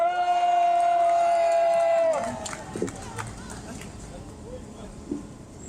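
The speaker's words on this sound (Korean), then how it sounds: "다시 한번 큰 함성으로" A crowd at an outdoor political rally in Cheongju cheers, with a loud sustained tone at the start, then scattered shouts and whoops that fade out, while voices carry on.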